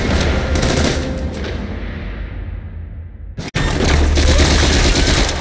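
Gunfire in the video game The Saboteur: dense, loud bursts of rapid shots and booms that thin briefly, cut out for an instant, then return as heavy sustained firing.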